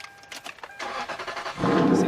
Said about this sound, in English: I'm gonna go ahead and start up the car